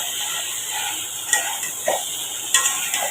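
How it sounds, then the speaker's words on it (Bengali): Shrimp and taro stolons (kochur loti) are being stirred in a pan, with a steady sizzling hiss and a few distinct utensil scrapes and clinks scattered through the few seconds. No voices. "আমি ঢাকনাটা খুলে নাড়াচাড়ি করে দেবো।"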